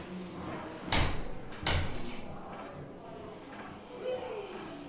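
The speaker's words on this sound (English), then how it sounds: "Come in, then we close the door" A door closes in a sensory museum in Prague, giving a couple of muffled thuds and bumps with room noise and faint movement afterward.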